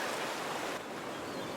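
Sea waves washing onto a beach, a steady close roar of surf with wind noise and no voices.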